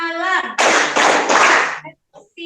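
Schoolchildren in a classroom play a call-and-response clapping game. After a woman's brief spoken cue, three loud, close bursts of group clapping follow one after another, each lasting about a third of a second, and then a short pause and a few faint sounds.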